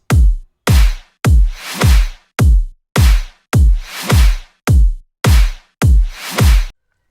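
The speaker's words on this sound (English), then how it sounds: "here are the drums that sound like this" A punchy electronic beat of heavy kick drums and snappy hits in a steady, even rhythm, loud and dry, ending in sudden silence, from a mid-tempo track.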